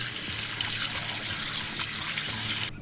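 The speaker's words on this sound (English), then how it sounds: "Then just run some water on it." Tap water runs steadily over a freshly cleaned trout, a close, continuous splashing gush that cuts off abruptly at the end.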